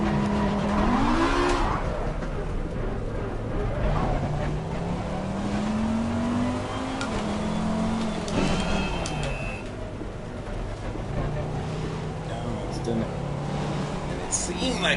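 Race car engine in Assetto Corsa Competizione, a continuous mid-level drone with pitch sweeping up and down through revs, mixed with intermittent tire noise and someone talking over it throughout.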